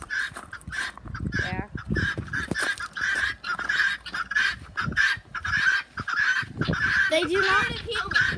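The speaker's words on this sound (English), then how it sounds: "That's the big, loud version of a guinea." Loud, harsh repeated calls from grown guinea fowl in a back yard, a steady chattering racket close by, with a person speaking over parts of it.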